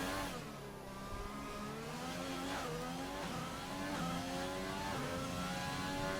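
A race car in a racing sim on the Monaco circuit runs flat out down the straight, its engine note climbing steadily through the gears with rising and falling harmonics, loud and continuous with no voices.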